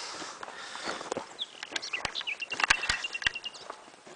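A songbird sings in a village, bright chirps and trills rising in the second half alongside scattered footstep-like thumps, fairly close but modest in level.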